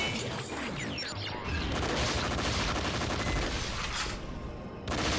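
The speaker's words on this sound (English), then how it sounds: "Maybe I should use my gun." Gunfire in the video game Raspberry Mash: a dense, continuous barrage of loud shots and crashing impacts with no pause, filling the whole stretch without speech.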